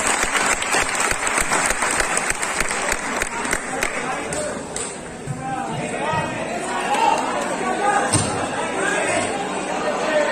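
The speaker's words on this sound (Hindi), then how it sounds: "एक बार जोरदार तालियां" Strong applause from a meetup audience in Patna, dense clapping at first that fades into crowd chatter and voices, with a few scattered claps near the end.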